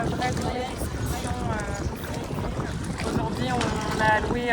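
A private hired boat's motor drones steadily as wind buffets the microphone, and people talk in French over the noise.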